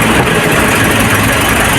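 A Nissan NV350 van engine runs steadily during an oil change and flushing, a loud continuous mechanical drone with no breaks or change in pitch.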